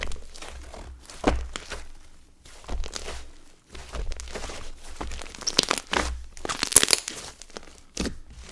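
Sizzly inflated slime pressed and squished by hand, giving close crackling, crinkling pops in uneven bursts that swell and fade over several seconds, with a few brighter crackly peaks toward the end.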